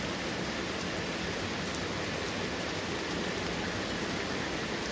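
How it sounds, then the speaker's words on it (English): Steady rain falls with no wind on a warm evening, an even unbroken hiss that holds at the same level throughout, close and fairly soft. "Nice rain. No wind. Just nice, steady rain."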